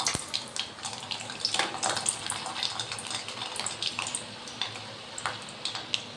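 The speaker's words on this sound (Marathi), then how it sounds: "आता याच्यामध्ये छान असं लसणाच्या पाकळ्या ज्या आहेत ते सोडून देऊया." Garlic cloves sizzle and crackle in hot oil in a pan, a dense, steady frying hiss with frequent sharp pops, close and fairly loud, with no talking.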